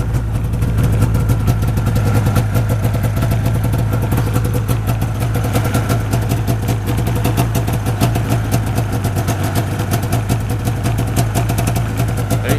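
A cheap used snowmobile engine idles and runs steadily, a loud, close, continuous buzzing drone with a rapid regular firing pulse and no talk over it.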